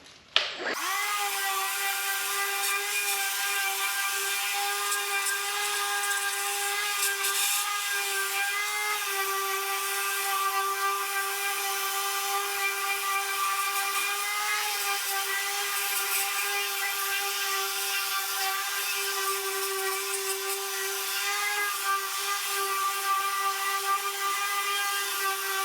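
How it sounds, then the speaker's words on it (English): A power sander fitted with 80-grit paper runs on a 2013 Camaro bumper cover, starting abruptly and then holding a steady, loud, high whirring drone for the full length, with no pauses and no voices. "I'm going to sand on it real quick so it's all got a nice little rough surface"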